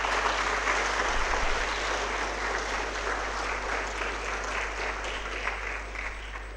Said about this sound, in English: Let's all welcome Sir with a round warm of applause.